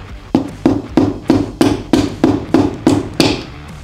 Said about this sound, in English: Part of my jobs always end up with me whacking things.